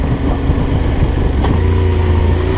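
A Yamaha Tenere 700 motorcycle engine runs steadily in fourth gear at light throttle, a continuous close-up drone with wind buffeting and no speech.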